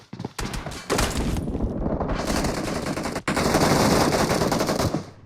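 Gunfire in the mobile battle royale game PUBG Mobile: a couple of short shots and then long, dense bursts of automatic fire, loud and close, with a brief gap before a final sustained volley.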